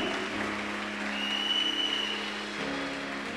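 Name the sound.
church congregation applauding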